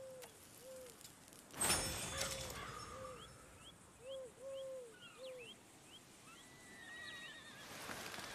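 A horse in the Red Dead Redemption 2 video game neighs faintly several times over an outdoor ambience of chirping birds, with a brief louder burst partway through and no talking.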